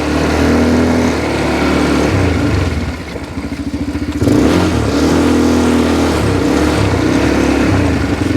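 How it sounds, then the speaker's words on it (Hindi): An ATV quad bike engine strains to pull a load over a larger obstacle, roaring loudly and close, briefly dropping into a lower chugging note before revving hard again and holding a steady high drone. "तो ये ऑब्स्टिकल में खींच पाता है कि नहीं देखते हैं।"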